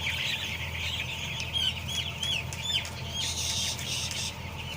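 Broiler chickens in a large air-conditioned farm shed cluck and squawk in a busy crowd over a steady fan hum, with bursts of wing flapping.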